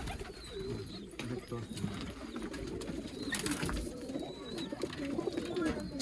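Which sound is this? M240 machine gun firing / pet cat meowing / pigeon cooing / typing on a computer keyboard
pigeon cooing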